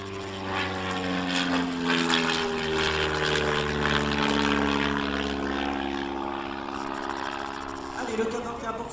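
A Mudry CAP 21 aerobatic propeller plane performs at an air show, its engine a steady loud drone whose pitch slides gradually downward, with an announcer talking over it.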